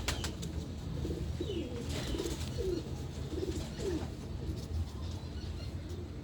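Silky pigeons in a loft coo softly in repeated low rolling phrases, about six calls spaced over several seconds, set against a quiet background with faint rustling.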